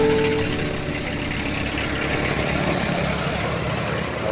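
The engine of a Hyundai van runs at a steady idle, a continuous low rumbling drone with a rough mechanical texture, heard close and even throughout.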